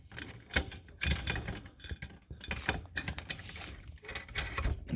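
A cell phone booster antenna mount is tightened by hand, giving a run of close, sharp metallic clicks and ratcheting rattles with brief gaps between them.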